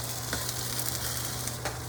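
Steady, close sizzling of potatoes frying in a pan for a Cretan omelette, with a constant crackling hiss and no talk.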